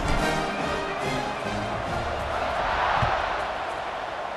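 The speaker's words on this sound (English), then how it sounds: "They're set to kick it off, and this crowd now ready to get behind them." A stadium crowd roars in the EA Sports College Football 26 video game as a kickoff approaches after a short touchdown run, a broad, sustained wash of cheering with a swell near the end, heard under game commentary.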